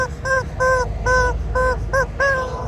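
Chickens at a spot on the Chicken Corners trail near Moab, with six loud, evenly spaced squawking calls over steady low background rumble.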